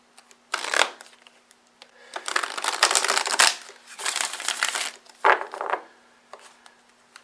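Cards are shuffled for a chakra card reading. Close, crisp bursts of riffling come in several separate rounds, each a few seconds long, with short quiet gaps between them.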